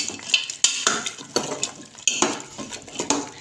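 A spoon scrapes and clinks repeatedly against a pot while ginger garlic paste is stirred into boiling beef, the strokes coming in an uneven rhythm over a soft bubbling background.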